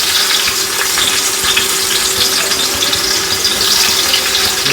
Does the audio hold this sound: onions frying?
yes